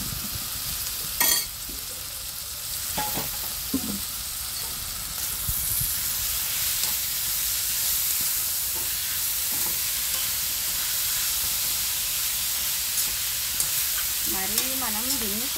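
Crushed ivy gourd and garlic fry in a hot pan with a strong, constant sizzle, broken by several sharp stirring scrapes and clatters; a brief tonal warble rises near the end, with no talking.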